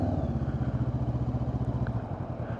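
A motorcycle pulls away slowly after a controlled stop during slow-riding practice, its engine giving a close, steady, throbbing pulse throughout with no voices.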